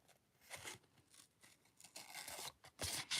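Scissors snipping through a stamped paper image for a Halloween zombie card, a close run of small crisp cuts and paper crinkles that grows brisker and louder toward the end, with no talk.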